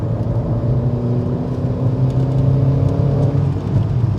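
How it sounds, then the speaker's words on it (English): A Seat Ibiza with a 1.4 engine pulls hard through an overtake, its steady throaty drone rising under load and holding loud and close for several seconds with road noise. "Actually feels quite throaty when you get your foot down."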